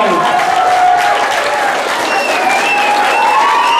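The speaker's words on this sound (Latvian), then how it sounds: "Aplausi 8. C klasē!" Loud, dense applause for an 8th-grade school class at an award ceremony, steady clapping filling the whole stretch with a few whistles rising above it.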